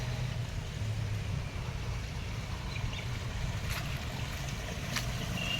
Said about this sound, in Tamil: Pump set ஓடிட்டுருக்குது.